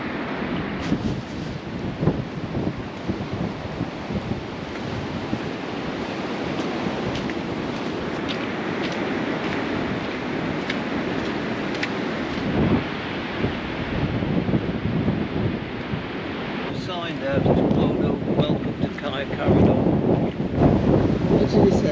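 Strong wind roars and buffets the microphone on the exposed hilltop of Caer Caradoc near Church Stretton, Shropshire, a loud steady rush with gusts throughout.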